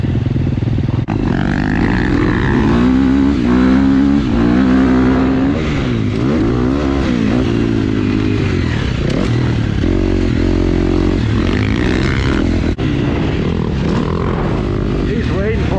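A dirt bike, an FC model, rides laps on a busy motocross track at Arizona Cycle Park, its engine droning loud and close throughout with rising and falling revs, gear shifts and rattling clatter, and a voice heard over the noise.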